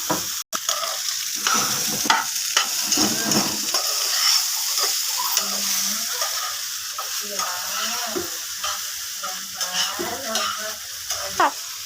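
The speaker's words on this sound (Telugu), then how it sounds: "బాగా తిప్పుకోవాలి ఫ్రెండ్స్." A spoon stirs spiced food sizzling in a hot pan with chilli powder and salt, a continuous loud fry with scraping strokes throughout and no talk.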